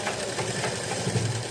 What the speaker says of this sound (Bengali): এই দেখো এক চাপে সেলাই করতেছি